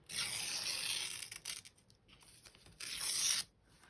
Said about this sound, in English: I'm going to do some more ripping. I like ripping. I love that sound.